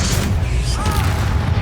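A Bombarda explosion spell going off in Hogwarts Legacy, a loud booming blast with rumbling low end and crackling debris amid ongoing combat effects, heard alongside a spoken spell call.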